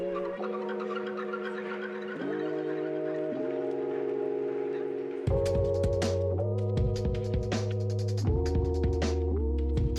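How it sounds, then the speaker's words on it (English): A vacuum chamber pump runs with epoxy-covered Fordite inside, a steady droning hum that shifts pitch in steps and grows louder and rougher partway through, with faint crackling. "then place it in my vacuum chamber"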